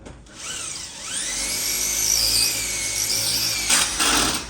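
A power drill-driver tightens screws while a house door is being fitted and set, a steady high-pitched whine that holds for several seconds, bends in pitch as the load changes, and ends with a brief louder burst, close by with no talk.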